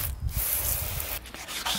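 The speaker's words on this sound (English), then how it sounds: "you literally just gotta sand it down" Wet sandpaper rubs back and forth against a car headlight lens in a close, steady scraping rhythm with brief pauses between strokes.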